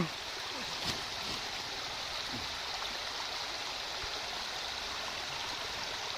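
Water pours steadily over a village weir as a constant broad rushing roar, with a faint splash or knock near the start and no talk.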